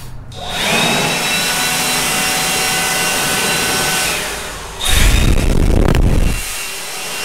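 A DeWalt 20V battery-powered leaf blower runs with a steady, loud motor whine and rushing air for several seconds, then surges louder with a heavier blast of air near the end before easing off.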